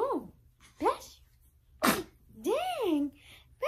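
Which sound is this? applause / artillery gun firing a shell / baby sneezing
baby sneezing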